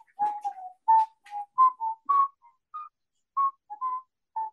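A man whistles the Mr. Buzzcock tune alone, a string of short, clear, high-pitched notes in a quick melodic rhythm with brief gaps.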